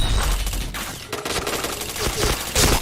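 Dense, loud video game gunfire rattles continuously as bursts of rapid shots blend into a sustained fusillade, with a speaking voice partly buried underneath.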